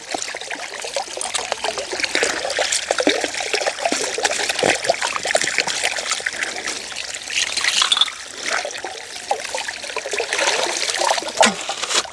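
Water runs and trickles steadily from a hose while garden plants are watered outdoors, a continuous close splashing flow with slight surges.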